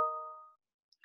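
A single short electronic chime sounds on a computer as an email notification arrives, a clean tonal ding that decays over about half a second, followed by faint brief clicks.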